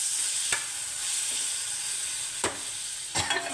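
Tamarind is stirred into a ripe red chilli chutney mixture cooking in oil in a pan, a continuous close sizzling hiss broken by a few sharp spoon scrapes against the pan.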